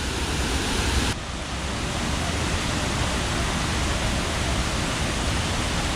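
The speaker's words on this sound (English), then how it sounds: "Really cool waterfall." A waterfall in a Hong Kong park roars as a dense, steady rush of water, loud and continuous, with a slight drop in level near the start and no voices.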